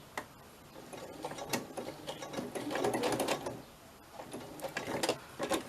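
A sewing machine threaded with white thread stitches in short bursts, pausing and restarting as it goes around a small piece, with light mechanical ticking under quiet room tone.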